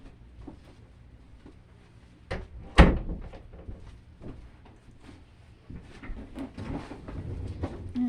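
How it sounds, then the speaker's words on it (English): A household door thuds shut once in a quiet room, a sharp single knock between faint rustles and handling sounds, with a television murmuring from downstairs. "Let's shut the door."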